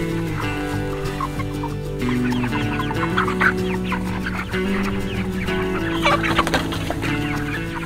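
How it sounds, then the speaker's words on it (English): A flock of pastured chickens clucks and squawks steadily, several birds close by, with a continuous dense chatter and occasional louder calls. "let's catch some chickens"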